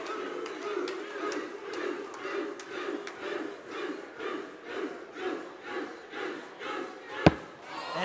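An excited crowd at the 2023 International Axe Throwing Championship cheers and chants in a steady rhythmic pulse, swelling and dipping throughout, with one sharp thud near the end.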